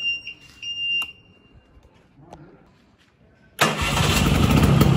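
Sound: 1993 Vespa Excel scooter engine starting

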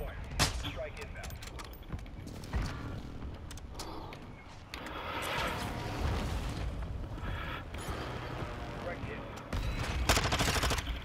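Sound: precision airstrike explosions in the Warzone 2 video game

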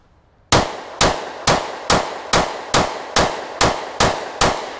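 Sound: gunshots from a Glock 27 pistol

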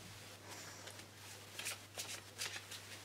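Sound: shuffling Pokémon trading cards

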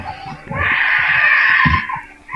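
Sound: child screaming and crying

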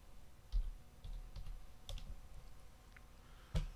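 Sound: typing a web address on a computer keyboard

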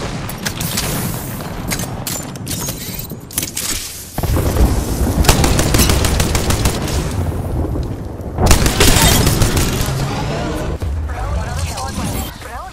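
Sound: Bangalore's artillery strike explosions in the video game Apex Legends

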